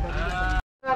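A lamb bleats at the Uzynagash livestock market in Almaty region, a close, loud harmonic bleat lasting over half a second, followed by a brief silence and the start of another bleat.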